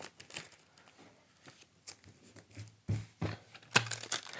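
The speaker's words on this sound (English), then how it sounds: "Just roughly sticky tape it down." Wide packaging sticky tape torn from the roll and pressed down onto mesh, giving a few short ripping and crinkling bursts near the end after quieter rustling.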